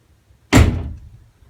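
A single solid thunk of a BMW E46 330Ci Clubsport door shutting nearby, sharp at the start and fading quickly into quiet.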